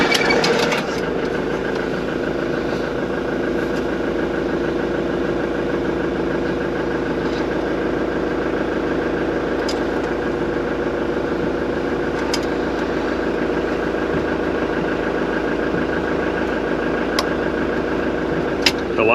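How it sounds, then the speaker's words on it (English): A van engine turns over and settles into a steady, even idle that holds close and loud for the whole stretch, right after a split charge relay is installed. No one speaks. "So now, if I start the engine"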